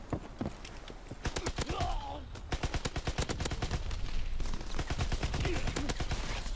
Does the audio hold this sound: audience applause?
no